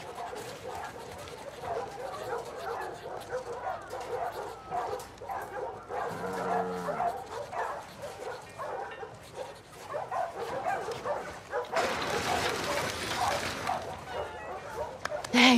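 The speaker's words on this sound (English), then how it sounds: "Hey, you crazy dog." A dog in the video game The Last of Us Part II yips, whimpers and barks excitedly in bursts, with game voices talking over it and ambient game sound throughout.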